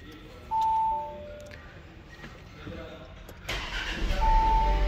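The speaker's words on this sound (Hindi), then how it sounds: "और अब मैं इस गाड़ी को स्टार्ट कर लेता हूँ।" A 2019 Audi A4 35 TFSI starting up: a short electronic chime, then the engine cranks and catches with a rising rumble that settles into a close, steady idle.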